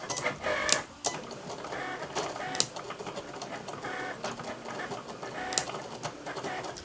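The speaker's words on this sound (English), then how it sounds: "the Cricut is cutting on my computer" A Cricut cutting machine cutting material, a quiet mechanical whirring with intermittent clicks and short motor bursts, fairly faint with faint background noise.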